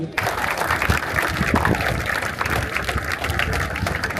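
Audience applause at a French foundation-stone ceremony, a steady wash of clapping from a gathered crowd with some low rumble and handling noise beneath, continuing throughout.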